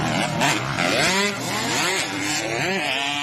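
King Cobra race motorcycles from Iligan City, racing in Don Carlos, Bukidnon, rev hard with wavering, rising engine pitches, loud and near as several bikes pass one after another.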